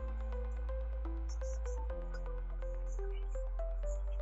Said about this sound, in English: let's say you're in an area and you've got background music that sounds something like this